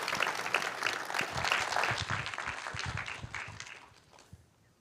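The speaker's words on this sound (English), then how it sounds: "Let's give a round of applause for Michelle Bakels." An audience at the SquiggleConf 2025 conference applauds speaker Michelle Bakels with dense, steady clapping that tapers off and fades out near the end.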